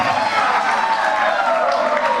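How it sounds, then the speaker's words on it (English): A room full of supporters at a Toronto municipal election night gathering, a continuous, busy crowd din of cheering and clapping heard at moderate loudness with voices blended in. "So you can hear the crowd in the room."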